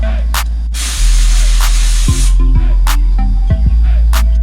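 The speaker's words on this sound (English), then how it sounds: "I'm gonna go blow it off with air, make sure it's cleaner" Compressed air blows off the rear brake parts of a Chevrolet C10 in a loud hiss lasting over a second, followed by short sharp blasts over a steady, close hum.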